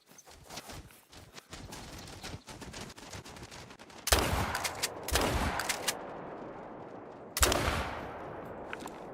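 Rifle shots ring out in theHunter: Call of the Wild, several sharp loud reports with bursts at intervals, separated by quieter stretches of crackling movement through brush.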